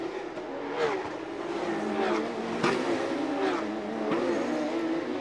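Porsche Carrera Cup race cars on the Chonburi street circuit in Thailand, engines roaring loudly as they rev up and down through shifts, with several cars passing close by in a continuous, rising and falling wail.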